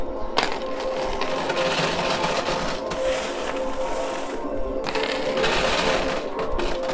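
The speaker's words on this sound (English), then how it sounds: "Stack up the quarters really, really high back there on the pusher" Quarters clattering and dropping in a coin pusher arcade machine, a continuous dense jangle of metal coins and mechanical churn with no talk.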